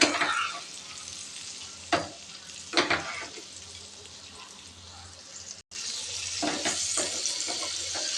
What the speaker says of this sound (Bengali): একই রকমভাবে এই ব্যাচটাকেও ভেজে নিচ্ছি।